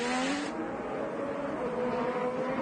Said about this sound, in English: We're seeing those cars who you heard must do the drive-through to get back in starting spot doing so. Here they are exiting the pits.